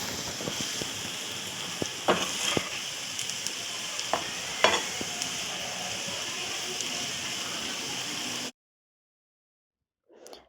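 Masala powders and onions are stirred and sautéed in a pan for prawn masala, giving a steady close sizzle with scattered spoon scrapes and clicks, then silence near the end.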